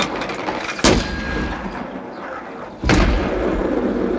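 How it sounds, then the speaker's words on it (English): Mortar shots exploding in a video game, two loud booming impacts with sharp onsets about two seconds apart, followed by a sustained rumbling wash of noise. "Eat the mortar shots."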